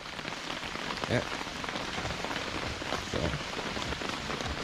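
Steady rain patters on a camping tent nearby, a dense continuous hiss with a couple of heavier drip bursts.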